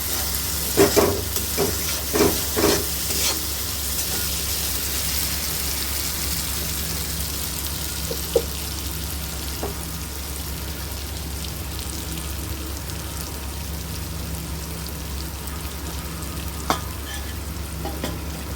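Potatoes frying with spices in oil for a rohu fish curry, sizzling steadily and loud throughout, with scraping stirs and light clinks near the start and occasional taps later.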